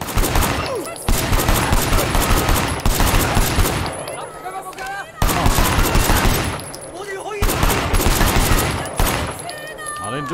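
Loud, sustained bursts of gunfire in the game Sleeping Dogs, several long volleys broken by short gaps, with shouting and scattered game sounds between the bursts.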